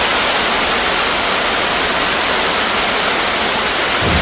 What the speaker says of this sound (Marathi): पहिलाच पाऊस पडतो आहे